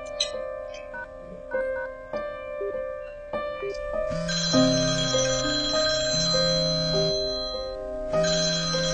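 A telephone ringtone repeats in a steady electronic melodic pattern, loud and close, with no talking, during a phone call at home in a family setting.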